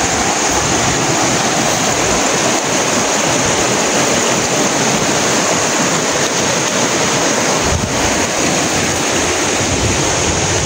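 Water rushes loudly and without a break for the whole stretch, a broad, roaring flow heard up close.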